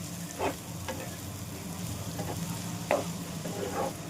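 Onion and bitter gourd frying in a pan for a garlic-onion curry, a steady close sizzle with a few louder scraping stirs of a spatula spaced through it, no talk.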